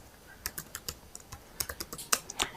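Fingers type on a computer keyboard in a short irregular run of crisp key clicks, some clustered together and a few spaced apart, close and fairly quiet.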